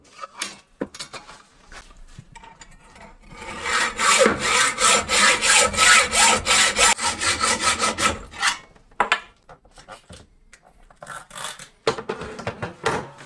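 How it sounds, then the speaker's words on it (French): A hacksaw cuts motorcycle suspension metal in rapid rhythmic back-and-forth strokes, close and fairly loud, preceded and followed by clinks and handling noises. "Une bonne scie à métaux"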